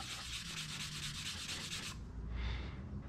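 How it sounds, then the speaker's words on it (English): A Cerakote H Series coated surface is scrubbed hard in rapid, even back-and-forth strokes, a close, steady rasping rub that stops abruptly, followed by one shorter stroke. "I mean, you're never going to be scrubbing it like this"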